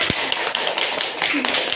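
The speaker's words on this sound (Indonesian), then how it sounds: "Tepuk tangan" Pupils in a classroom clap their hands in a short, uneven burst of claps and taps close by, with a voice speaking over them.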